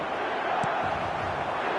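Stadium crowd noise from a football video game match, a steady broadband roar of cheering that holds loud and constant throughout, with a brief sharper burst partway through.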